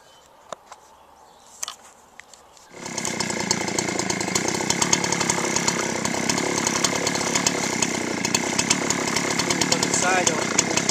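A chainsaw cuts straight down the middle of a log to square it off before Alaskan milling, starting abruptly after a few quiet seconds of faint knocks, then roaring loud and steady at full throttle through the wood.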